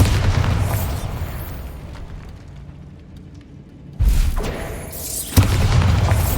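Spell explosions in a video game, heard as a loud sustained boom that fades away and then two more sharp blasts in quick succession, with no talking.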